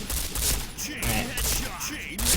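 P90 submachine gun fire in the shooting game Point Blank comes in repeated rapid bursts, loud and close, separated by brief gaps.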